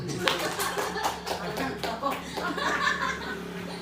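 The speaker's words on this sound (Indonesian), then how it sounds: "Tepuk tangan." A small group in a classroom training session breaks into brief scattered clapping mixed with light laughter and chatter, individual claps distinct and close.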